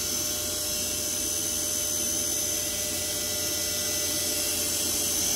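A Milltronics RW 20 CNC mill spindle runs at 5300 RPM, giving a steady, even machine hum with a high whine, alone and unchanging throughout.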